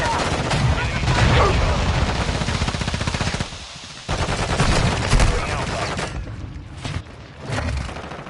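Dense automatic gunfire from a Modern Warfare 2 online match, loud and nearly continuous with rapid rattling bursts, a brief drop near the middle, then more shots and booms in the mix.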